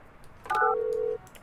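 A short electronic telephone dialing tone in the Project Highrise building game, playing as a brief clean chime sequence that ends in a single sustained beep, close and clear over a quiet background.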